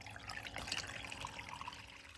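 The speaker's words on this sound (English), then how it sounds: "I'll go ahead and I'll turn my cleanup sluice on" Running water pours and trickles through a gold cleanup sluice on a frozen beach mining site, a steady close wash with small splashes and no talking.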